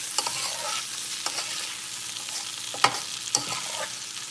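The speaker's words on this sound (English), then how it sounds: "The rice is frying up." Rice frying in a pot while a spoon stirs it: a steady close sizzle with several sharp scraping clinks of the stirring, and no talk.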